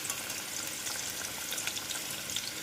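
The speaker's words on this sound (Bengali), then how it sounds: "এই দেখো এই আলুগুলো প্রায় ভাজা হয়ে গেছে।" Potatoes fry in a pan with a dense, steady sizzle of hot oil, close and continuous throughout with no talking.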